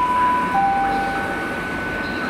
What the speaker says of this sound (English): The train at platform 11.